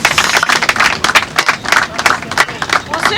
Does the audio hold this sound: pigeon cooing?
no